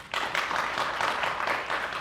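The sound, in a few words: round of applause at a graduation ceremony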